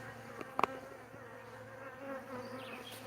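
Wild honey bees swarm around a swarm trap, a steady close insect buzz and drone with several bees passing near, plus a couple of brief clicks or taps early on.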